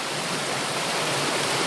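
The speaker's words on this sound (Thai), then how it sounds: "ข้างหลังก็น้ำตกข้างหน้าก็น้ำตก" Loud, continuous rush of a waterfall at Ton Pliw falls, Thailand, heard up close as a dense, even roar of cascading water with no talking.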